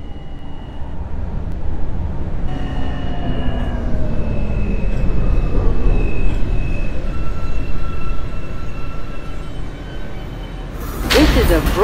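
A Brooklyn-bound New York City J subway train, an R160 car, runs with a loud steady rumble and rising whine of motors, metallic squeals over the top, and a sharp burst of noise near the end.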